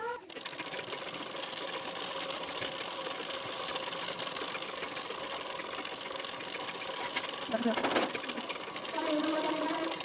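A sewing machine runs continuously while stitching along the edge of a blouse waistband band, a close steady mechanical hum with a brief clatter near the end, under a voice speaking Bengali.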